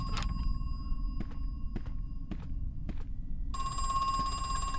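Telephone ringing in the horror video game Crow Country, a thin electronic tone with repeated short clicking rings over a low rumbling background, growing brighter and fuller near the end.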